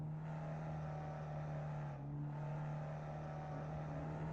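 A Ford Ka race car of about 70 horsepower, small, light and front-wheel drive, drones on track with a steady engine hum and gearbox whine, a brief dip midway as it changes gear, no talking.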